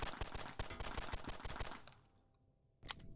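Rapid gunfire from a Glock striker-fired pistol, a fast string of sharp, loud shots for about two seconds, then a pause and one more shot near the end.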